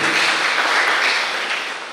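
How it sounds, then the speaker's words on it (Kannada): An audience applauds in honour of the army and defence forces, a loud, dense wash of clapping that fades a little toward the end. "ಒಂದು ಕೈ ಚಪ್ಪಾಳೆ ಹಾಕಿ ಅದಕ್ಕೆ, ಫಾರ್ ಅವರ್ ಡಿಫೆನ್ಸ್ ಫೋರ್ಸಸ್, ಆರ್ಮಿಗೆ"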